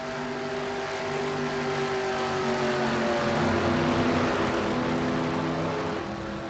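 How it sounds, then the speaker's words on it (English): A racing truck drives by on the Kentucky race track, heard from up in the booth: a droning engine roar with shifting pitch that swells to a peak near the middle and eases away, with no talk. "the truck going by from up here in the booth"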